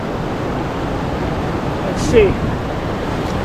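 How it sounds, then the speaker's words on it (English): Big ocean waves break and wash along the Vancouver Island shore at sunset, a constant close roar with a slight surge partway through, while a person speaks a few words over it. "Oh, here's a big wave coming."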